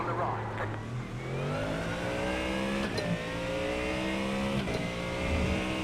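A race car engine in the iRacing sim racing game roars loud and continuous, its pitch climbing steadily as it revs, with brief dips at gear changes.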